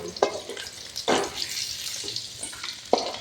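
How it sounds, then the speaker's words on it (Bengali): Small puti fish fry in a pan with a steady close sizzle, broken by several sharp bursts as the fish are stirred or turned, and no voices. "বাকি মাছগুলো ভেজে নেব"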